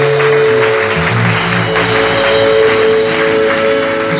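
Church congregation applauding loudly and steadily throughout, a dense continuous clatter of many hands alongside a sustained musical tone.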